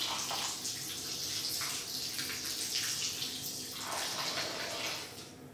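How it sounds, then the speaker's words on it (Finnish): Water is poured over freshly sown seeds, a soft splashing trickle that comes in a few uneven surges and fades near the end, quiet and close with no talking. "Sitten laitetaan vähän vettä."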